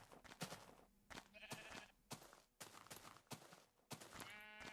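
Several sheep bleat in Minecraft, short wavering cries coming in bursts, some near and some farther off, over a steady background of game ambience.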